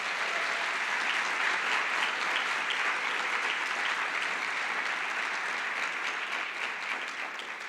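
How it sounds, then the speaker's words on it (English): Steady, full applause from a large assembly hall audience honoring a guest's birthday, continuous dense clapping that holds level throughout and eases only slightly near the end. "Please give him a hand of applause"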